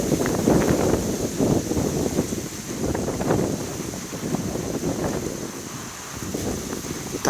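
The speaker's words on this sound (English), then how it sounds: "I'm talking about windy 30 mile per hour gusts." Strong storm wind gusting at about 30 mph in Boca Raton, Florida, roaring steadily and buffeting the microphone in repeated surges, with no talking.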